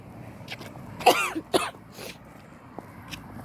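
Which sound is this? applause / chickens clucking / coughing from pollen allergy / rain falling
coughing from pollen allergy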